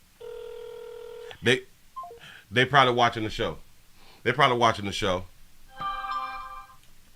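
Outgoing call on a landline or phone: a burst of steady dialing tones, then a ringback tone that repeats near the end, with someone talking loudly over the gaps between them.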